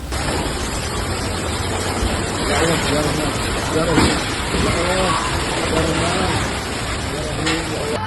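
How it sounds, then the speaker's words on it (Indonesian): Heavy rain and strong wind lash Central Java during a storm. A dense, steady roar of downpour fills the scene, with faint voices audible underneath. "hujan deras disertai angin kencang mengakibatkan kerusakan pada sejumlah fasilitas"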